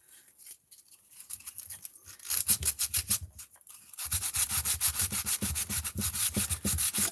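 Sandpaper rubbing across an RC car battery tray on a Redcat Kaiju V1, close scratchy strokes that start sparse and faint, then settle into a steady, louder back-and-forth rhythm.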